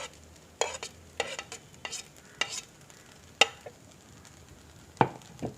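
Sautéed capsicum being stirred into chickpea rice, a series of spaced, crisp scraping strokes of a spoon in the pot over a faint sizzle, no voices.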